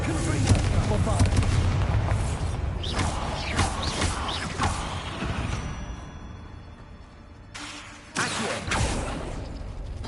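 Bombarda and Confringo spells bursting in Hogwarts Legacy gameplay, loud booming blasts layered over dense battle noise and music, with a short lull before a fresh explosion near the end.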